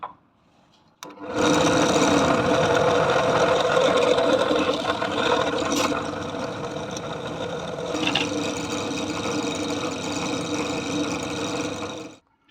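A steady, loud machining whir runs for about eleven seconds as a notch is milled through the handle of a paper cutter, starting abruptly and ending abruptly, with no talk.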